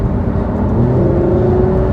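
Lamborghini Huracan V10 supercar driving, its engine holding a steady loud drone with a rising tonal whine as it pulls, heard from inside the car without talk.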